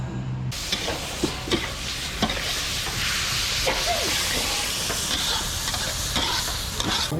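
Pad cha, a spicy Thai stir-fry, cooks for a catered event at a temple. A loud, steady sizzle runs throughout, broken by sharp scrapes and clanks of the spatula against the pan.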